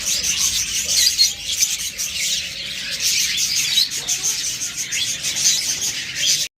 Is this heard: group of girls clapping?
no